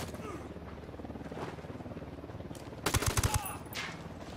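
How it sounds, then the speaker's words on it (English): In the video game Ghost Recon Wildlands, a short burst of rapid gunfire cracks out near the end, following a stretch of softer background game sound. "Taking fire from the parking area."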